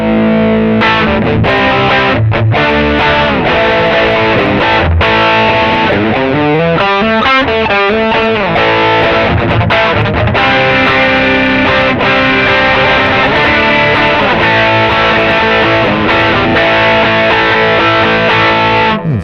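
Heavily distorted electric guitar through an Ibanez JD-9 Jet Driver pedal plays loud, continuous riffs and chords, thick and saturated throughout with no pauses.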